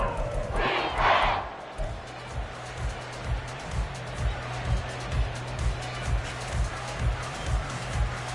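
Stadium crowd at an American football game on third down with Prescott under center, a dense steady roar with rhythmic low thumping pulses running under it and a brighter swell of noise early on.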